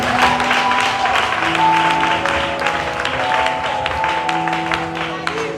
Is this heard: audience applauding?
yes